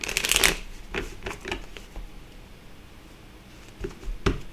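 A deck of cards is shuffled close up: a loud riffling burst at the start, followed by softer scattered taps and a few crisp card snaps near the end.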